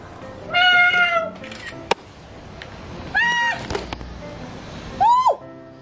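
A cat meows three times, close and clear, with a drawn-out first call, a shorter second and a rising final one, plus a sharp knock and faint background rustle in between.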